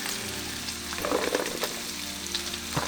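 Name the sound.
green beans frying in plant-based butter and avocado oil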